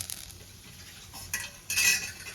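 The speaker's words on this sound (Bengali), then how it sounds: "ফোড়নটা একটু ভেজে নেব।" Whole bay leaves, cloves and cinnamon fry in leftover fish oil in a pan, with a soft steady sizzle, occasional scrapes and a louder burst of hissing and clatter near the end.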